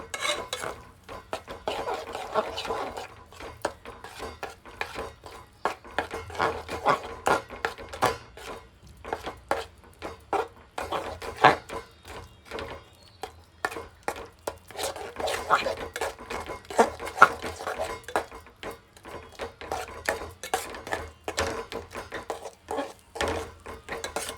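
A cashew, almond and sugar mixture for sheera is stirred in a pan, producing continuous close scraping and rubbing strokes in a busy, uneven rhythm for over twenty seconds.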